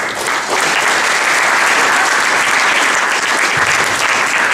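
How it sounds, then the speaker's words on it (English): An audience at a Mobile Monday Silicon Valley panel event breaks into steady applause, a dense wash of clapping that holds at full strength for several seconds without talk. "Give her a round of applause."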